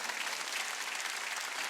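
A church congregation claps during a worship service, a dense, steady wash of many hands applauding together, with a louder burst right at the end.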